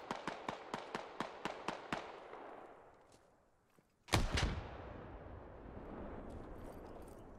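A grenade blows up in the tactical shooter game Squad. A run of sharp, evenly spaced gunshots is followed by a short lull, then one loud, close blast whose rumble fades slowly over several seconds.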